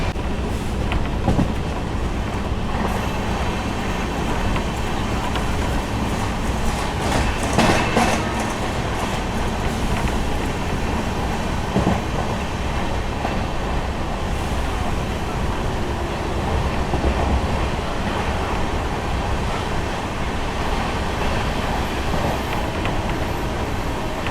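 The 12621 Tamil Nadu Superfast Express from Chennai Central to New Delhi rumbles steadily along the rails just past Oduru station, a continuous loud roar with rattling and faint clickety-clack from the wheels, no voices.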